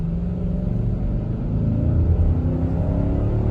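An Infiniti QX80 SUV gathers speed, its engine a steady, close, low rumble and whir that climbs gently in pitch, with no talking.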